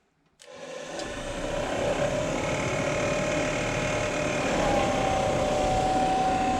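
Jaguar MKII heater box blower fan switched on to its fast setting, spinning up from silence into a steady, close mechanical whir with a faint rattling texture.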